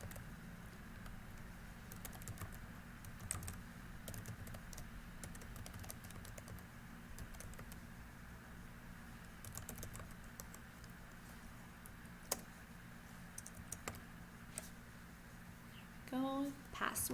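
Keys on a computer keyboard tap in irregular bursts as someone fills out an online account form, close and fairly quiet over a low hum, with a short stretch of talking near the end.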